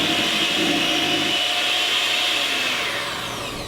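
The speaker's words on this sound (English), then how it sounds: "then you can go ahead and grab out your mixer" Electric mixer whirring through cake batter for a jello shot cake, a loud continuous motor drone that holds steady, with no talk.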